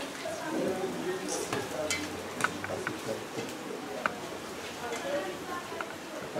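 Carnival beignets frying in a pan, a gentle sizzle broken by small clinks and stirring taps, with people talking over it.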